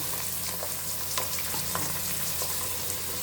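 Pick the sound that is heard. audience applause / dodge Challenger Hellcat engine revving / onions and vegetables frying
onions and vegetables frying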